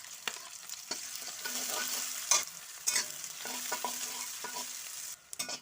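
Onions frying in hot oil in a wok, a steady close sizzle broken by scraping stirs and a few sharp clanks of the spatula, with no voices.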